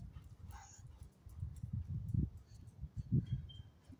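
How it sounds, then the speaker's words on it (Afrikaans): A frightened dog whimpers during a thunderstorm, soft low whines and yips coming in short bursts with faint rumbling behind them, fairly quiet and close, no talking. "En my hond Shadow hou nie van donne weer nie"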